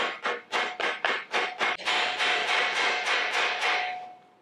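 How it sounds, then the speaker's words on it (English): A soft hammer taps a bearing into a vintage DAP kart part in a rapid series of about a dozen sharp, close blows, quickening and blending into a ringing buzz toward the end. "you can get yourself a little soft hammer."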